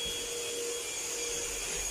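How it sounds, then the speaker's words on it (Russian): A household vacuum cleaner runs indoors during tidying, giving a steady whining drone with a faint high tone, fairly quiet and unbroken, with no talk. "иди там пылесось"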